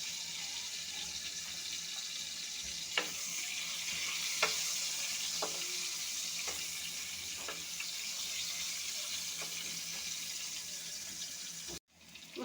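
Sliced bitter gourd fries in a pan with salt, giving off a steady, soft sizzle with a few sharp clicks and scrapes from stirring, then a brief clatter at the end.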